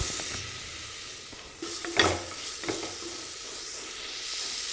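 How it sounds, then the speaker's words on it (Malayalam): Masala for tomato rice fries in a pan with a steady low sizzle, broken by two brief stirring scrapes near the middle. The sounds are close and there is no speech. "അതിന് പച്ചമണം മാറുന്ന വരെ നമ്മൾ ഇതങ്ങ് ഇളക്കി കൊടുത്തുകൊണ്ടേ ഇരിക്കണം."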